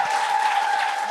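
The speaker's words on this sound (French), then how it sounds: "est-ce qu'on peut donner un tonnerre d'applaudissements à tous les humoristes qui sont en arrière" Comedy-show audience giving the comedians backstage a round of applause, a dense, even wash of clapping held at full strength throughout the short span.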